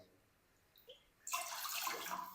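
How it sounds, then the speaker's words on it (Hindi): Two cups of water are poured into a pot while cooking aloo suji snacks, a sudden steady splashing gush after a quiet moment, close and fairly loud, with no talking. "इसके अंदर ना हम 2 कप पानी डाल देंगे"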